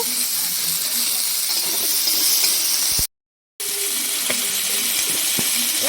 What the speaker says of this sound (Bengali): ওটাকে এবার পেঁয়াজ দিচ্ছি, পেঁয়াজগুলো ভেজে নেব।